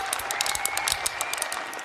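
Audience applause at an education technology conference, a short burst of dense, moderately loud clapping from a crowd, with no talking over it.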